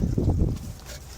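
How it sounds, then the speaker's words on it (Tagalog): Gusty wind of a sandstorm roars into the microphone, loud rumbling buffets that ease slightly after the first half second. "oh, lakas ng hangin"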